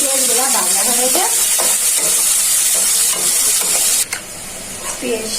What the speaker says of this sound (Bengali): এখন কুচি করা পেঁয়াজগুলো দিয়ে দিচ্ছি।